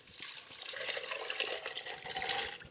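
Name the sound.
soaked white beans and salted soaking water poured into pot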